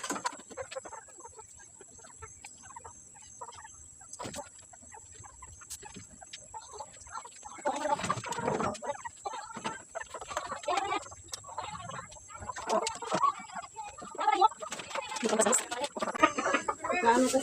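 Chickens cluck and squawk at a Filipino home yard, bursts overlapping at close range and growing busier toward the end over a steady high insect-like hiss.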